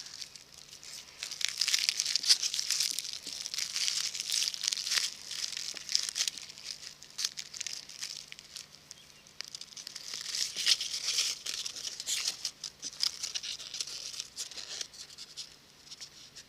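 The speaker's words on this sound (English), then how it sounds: "So now pull it to about there and tie again" Dried corn husk crinkles and tears as it is pulled into shape and tied off for a handmade doll's body, with steady close rustling and crackling throughout and a brief lull in the middle.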